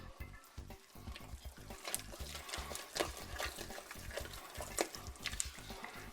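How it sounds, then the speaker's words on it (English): Onions and bacon fry in melted butter for Kentucky-style grits and greens while a spoon stirs steadily, giving a rhythmic series of soft scraping pulses over a low, continuous sizzle. "We're going to stir that up really well"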